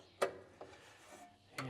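Tightening parts on a combine harvester during a pre-harvest check: a few sharp metallic clicks and ratcheting sounds, close but quiet, separated by brief rubbing noises.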